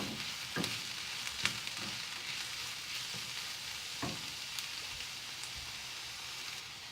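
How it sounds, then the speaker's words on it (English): Ginger garlic paste fries with browned onions for a Chettinad pepper chicken gravy. A steady, fairly quiet sizzle runs throughout, with several sharp scrapes and clicks from stirring and no speech. "Now we can add the ginger garlic paste. Fry it for a couple of minutes."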